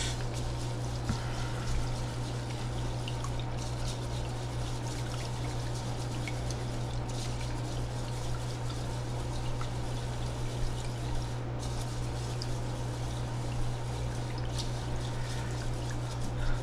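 Water pours steadily to rinse basmati rice, a continuous, even running-water wash with a low constant hum underneath, sustained throughout without pauses.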